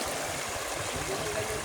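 Water in a rocky river at Norzagaray, Bulacan, rushes and trickles over stones, a steady close wash with a faint voice in the background.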